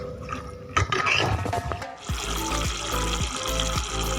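Rice-washing water poured into a pot of sautéed mutton for drumstick mutton curry, a sudden splashing pour that settles into steady bubbling and simmering, fairly close.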